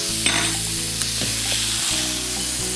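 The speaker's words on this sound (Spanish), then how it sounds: "vamos a dejar que se termine de cocinar bien la cebolla" Onion seasoned with nutmeg cooks in a pan, a dense continuous sizzle with occasional soft stirring clicks and scrapes, close and fairly loud with no voices.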